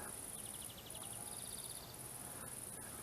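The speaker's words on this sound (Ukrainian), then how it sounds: "цвіркуни цвірінькають" Crickets chirp in quick rhythmic trills over a constant high insect drone, soft and outdoors beside a river, with no voices.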